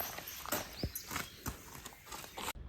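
Hooves of a 31-month-old breeding colt clip-clop in a rough walking rhythm, several distinct close strikes with a faint whinny-like tone amid outdoor noise.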